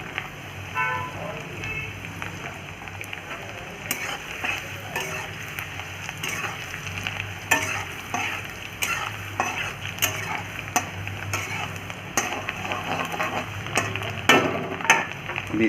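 Garlic fries in a pan for dhaba-style pepper chicken, with a constant sizzle broken by frequent clicks and scrapes of a spoon stirring against the metal.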